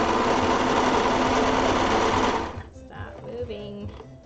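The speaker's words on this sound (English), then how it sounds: "the trials and tribulations of using a serger or an overlock machine, but especially the home machine version" A home serger overlock sewing machine runs loud and steady for about two and a half seconds, then stops abruptly, leaving quiet room noise and faint movement.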